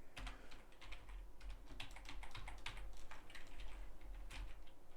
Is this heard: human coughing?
no